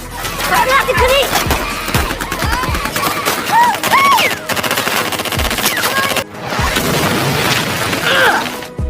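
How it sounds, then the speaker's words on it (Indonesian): Rapid machine-gun bursts and rifle fire from a war film battle as Taliban forces attack, loud and nearly continuous, with shouting voices and a few heavy booms mixed in. "tiba-tiba mereka diserang oleh pasukan Taliban"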